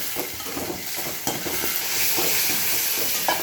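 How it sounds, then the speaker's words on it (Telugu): Sliced ivy gourd (kandanakaya) fries in a pan with a continuous close sizzle and hiss, broken by occasional stirring scrapes. "మనకి కందనకాయలు బాగా వేగుతున్నాయి"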